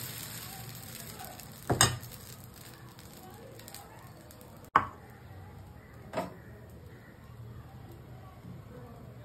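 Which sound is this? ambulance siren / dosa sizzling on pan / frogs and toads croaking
dosa sizzling on pan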